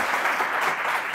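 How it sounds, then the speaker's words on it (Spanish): A medical conference audience applauds to welcome a speaker, a dense, steady burst of many hands clapping at once, close and uniform. "Démosle un fuerte y caluroso aplauso."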